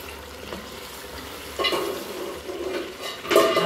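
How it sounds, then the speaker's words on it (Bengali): Chicken stir-fried with tomato and potato in a pot, with soft sizzling, a spoon scraping and stirring, and occasional clatters of metal against the pan, fairly close and with no talk. "আমি মুরগির মাংসটা কষাইতেছি টমেটো আলু দিয়ে"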